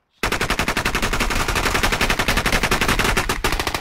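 Sustained automatic gunfire in the video game Squad, a rapid stream of loud, close shots that bursts in abruptly and keeps hammering for several seconds without pause.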